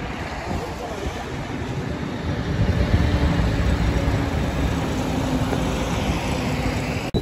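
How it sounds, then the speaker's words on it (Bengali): Strong wind buffets the microphone outdoors in Dinajpur as a loud, continuous roar that rises slightly partway through and runs the whole time without a break. "কেমন বাতাস।"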